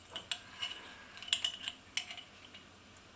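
A metal teaspoon scrapes Dijon mustard off into a pot of vegan mushroom and pepper stroganoff, giving a string of light, quick clinks and scrapes, close and fairly quiet.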